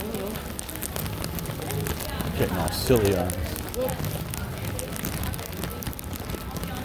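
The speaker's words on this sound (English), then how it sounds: "It's raining like crazy." Heavy rain pours onto a New Orleans street in a dense, constant patter, while people talk loudly over it.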